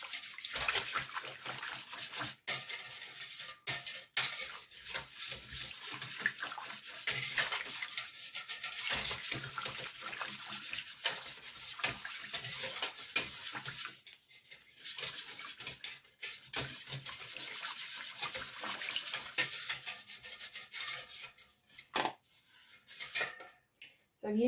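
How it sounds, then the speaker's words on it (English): Whisk scraping and stirring caustic soda into melted sheep tallow for soap, continuous soft rhythmic rubbing and swishing against the bowl, close and fairly quiet, with brief pauses. "just using the whisk to whisk the caustic soda and fat together"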